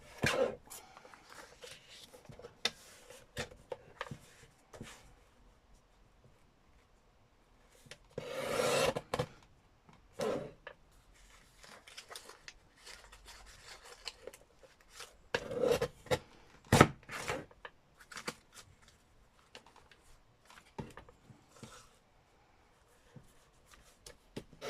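Cutting off stitching and fabric from old papers: close, quiet snips, rustles and scraping of paper and fabric, irregular and intermittent, with a few louder crinkling bursts.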